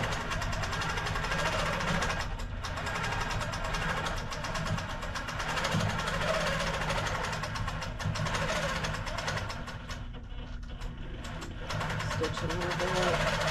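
A domestic or long-arm sewing machine runs steadily, stitching through an insulated tote bag, a continuous mechanical whir with a slight pause partway through, beneath a person talking.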